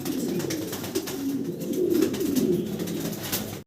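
Pomeranian pouter pigeons in Andalusian colouring coo, a soft, continuous low warbling murmur close by, with overlapping calls and no talk.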